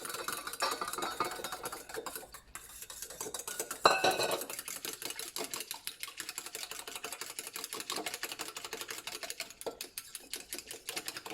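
Almond cream mixture being beaten in a bowl, with rapid, continuous close clinking and scraping of a utensil against the bowl, steady throughout, with no talk.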